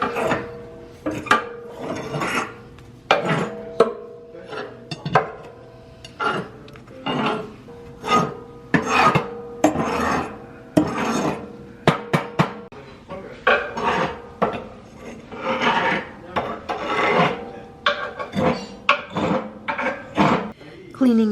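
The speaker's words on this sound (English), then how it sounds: "I just get all of this ash cleaned out." Ash being scraped and shoveled out of a wood stove firebox with a metal tool, repeated rasping scrapes and clanks against fire brick in an uneven rhythm, close and fairly loud, with no talking.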